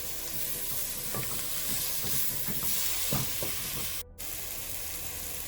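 Chopped tomatoes sizzle steadily in a pan on a medium flame for egg chilli curry, a dense, even frying hiss with a few soft stirring scrapes and a brief break near the end.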